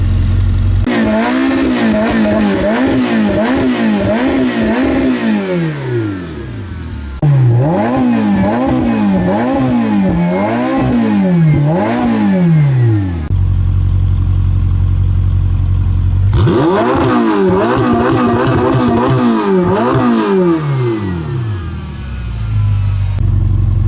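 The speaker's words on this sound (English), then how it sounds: "When you rev this car, it sounds beautiful." Ferrari 488 Pista engine revving hard in three bursts, each climbing and falling in pitch with a throaty, loud close-up roar, separated by brief idle pauses.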